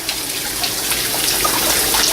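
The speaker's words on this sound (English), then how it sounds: "But the fountain's working." A water fountain running outdoors at a haunted tents setup, a steady wash of splashing and trickling water that stays fairly loud and even throughout.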